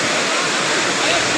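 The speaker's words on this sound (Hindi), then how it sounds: "हिफाजती बन था वो अब टूट गया और पानी जो है वो गाँव की तरफ बढ़ता" Water from the Sutlej river pours through a broken protective embankment toward a village, making a loud, unbroken roar of rushing water that fills the whole moment.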